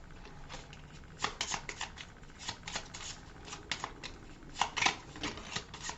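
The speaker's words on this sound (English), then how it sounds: "Shuffling aggressively here." Up close, a deck for the board game Architects of the West Kingdom is shuffled aggressively, with rapid, uneven bursts of papery riffling and slapping that swell and fade over several seconds.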